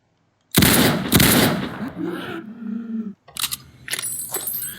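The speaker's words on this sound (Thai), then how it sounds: "ก้อยนี่ก็ใช้ปืนพกยิงสองตัวตายเนาะ" Pistol gunshots in the Roblox video game, two sharp loud bangs in quick succession followed by a brief metallic ring and further game noises.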